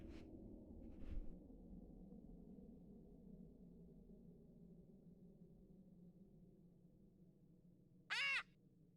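A bird caws once in a horror video game, a short, loud, sharp call breaking a quiet, low ambient drone near the end, with a faint earlier sound.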